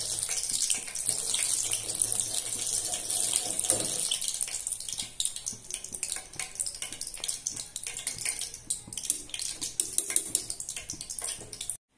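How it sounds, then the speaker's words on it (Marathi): Green chillies sizzle and crackle as they fry in hot oil in a slotted ladle, a steady bright hiss that is fuller at first and then thins into scattered pops and spits. "आणि जास्त तेलात ठेवायचं नाही, आपण या झाऱ्यामध्ये असं करून तळून घ्यायचं"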